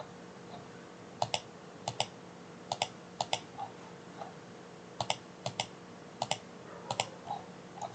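Computer mouse clicking while editing lines in a Revit project, with paired sharp clicks in irregular bursts, close and fairly quiet over a low background hum.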